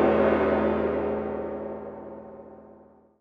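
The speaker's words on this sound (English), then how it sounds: "Gong." A single gong stroke rings out with a broad, shimmering wash that slowly decays over about three seconds, alone and fairly loud.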